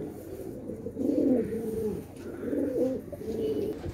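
Pet pigeons coo close by in soft, low, throaty rolling phrases, two or three bursts separated by short pauses, with no one speaking.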